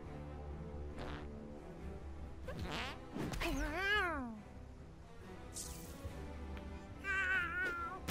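A cat meows several times in a South Park video game, with drawn-out, pitch-bending calls against background game music and sound effects.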